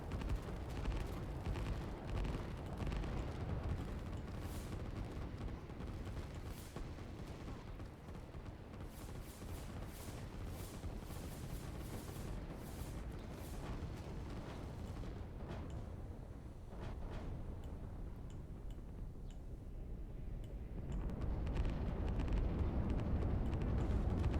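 Rockets striking and exploding in the real-time strategy game Line War, a dense, continuous rumble of booms and blasts that swells louder toward the end, with no voices.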